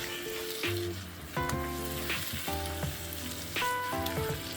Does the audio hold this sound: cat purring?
no